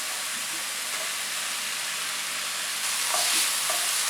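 Green chilies and onions fry over high heat in a pan, giving a loud, steady, dense sizzle that runs throughout without pause, with faint scraping of stirring underneath.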